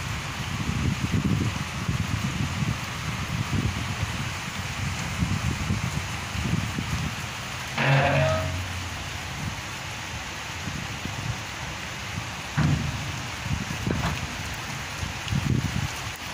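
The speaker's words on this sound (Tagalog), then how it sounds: "Ulan-ulan na siya dito sa Kuwait." Steady rain falls continuously in Kuwait with a broad hiss, with occasional gusts and thumps, but no talking.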